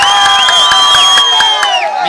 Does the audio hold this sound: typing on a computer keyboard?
no